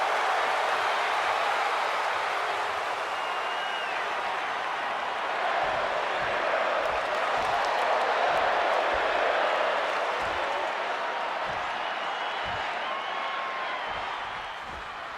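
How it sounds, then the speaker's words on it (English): Wrestling arena crowd at a Smackdown show roaring and applauding in a dense, continuous wash of cheers and claps, loud and sustained, easing slightly at the end. "this crowd is feeling it"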